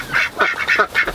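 Ducks quacking near a coop where they lay eggs: several close, nasal quacks in quick succession over a short stretch, fairly loud and uninterrupted by talk.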